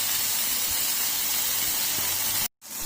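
Bombay duck (bombil) fish frying in a pan gives a loud, dense hiss that holds steady and close, then cuts off abruptly near the end before faintly resuming.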